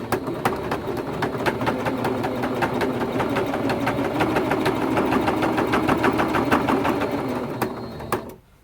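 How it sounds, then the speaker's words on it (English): A sewing machine runs steadily while stitching binding onto a T-shirt quilt, a fast even needle rhythm lasting several seconds before stopping abruptly at the end. "Drop your presser foot and continue sewing."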